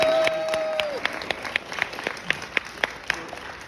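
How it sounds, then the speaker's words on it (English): A small group claps scattered, uneven applause nearby at an award presentation, with a voice heard briefly at the start. "Let's give one more round of applause for Amani and for Dr. Motoko."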